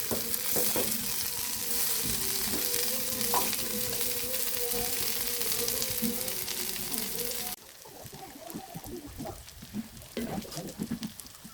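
Dill greens sautéed in a pan give a busy, crackling sizzle with stirring scrapes, then drop to a quieter fizz broken by sharper clinks of the utensil, with no one talking.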